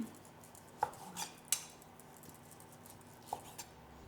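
A knife cuts through cooked steak on a board with a few faint, sharp taps and clicks scattered among quiet pauses, soft and close with no voices.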